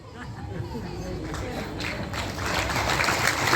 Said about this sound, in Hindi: ये तालियां आप अपने लिए बजा रहे हैं, जोर से बजाइए।